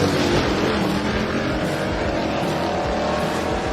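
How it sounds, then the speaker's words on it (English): A 1974 pickup truck launches at a drag strip as the clutch drops, its engine a loud, sustained roar held at full power for the whole stretch, close and without talk. "And the 1974 pickup truck. Drop the clutch of this thing and watch the bed move all over."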